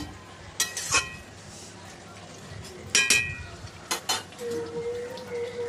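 Fried mourala fish tipped into a cooking pot of okra curry, giving a few sharp clinks and clatters of metal utensils and pot against a soft sizzle, with brief bursts spaced through the scene and a steady frying hiss underneath.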